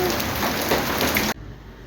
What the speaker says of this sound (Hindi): ये देखें, ये ओले पड़ रहे हैं यार